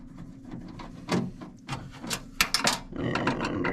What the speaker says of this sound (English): I'm going to go ahead and remove these screws here